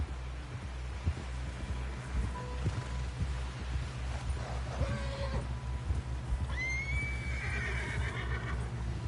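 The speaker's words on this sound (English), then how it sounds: "Someone help John down off this horse." A horse whinnies in Red Dead Redemption 2 over a steady low rumble of hoofbeats and ambient noise, with a rising, wavering neigh near the end.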